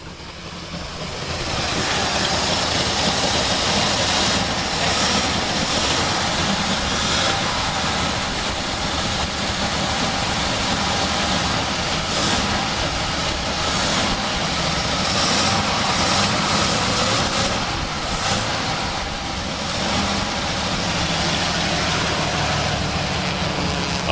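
A 1979 Ford F250 engine idles roughly and steadily close by, a broad continuous rumble with faint surging throughout and no talk over it.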